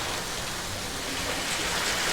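Heavy rain pouring steadily in the film The House that Jack Built, a dense, even hiss of downpour that holds constant throughout with no voices over it.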